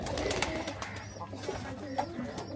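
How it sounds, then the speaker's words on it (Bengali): Domestic pigeons coo softly and steadily in the background, a faint, continuous murmur of low calls with no voices over them. "খালামার কবুতর পালা দেখে আমার না দুইটা কবুতর পালতে মন চায়"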